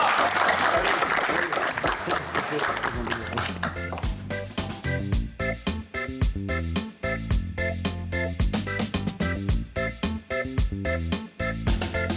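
A TV studio crowd claps loudly at first after a couples' runway walk, the applause thinning into scattered claps mixed with a rhythmic beat and music.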